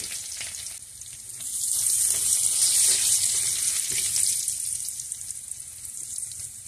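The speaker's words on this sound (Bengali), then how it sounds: "রসুনটা আমি ভালো করে নেড়ে চেড়ে একটু লাল করে নেব।" Crushed garlic fries in a pan for a Bengali spinach dish, a steady close sizzle that swells and eases as it is stirred, with faint scrapes underneath.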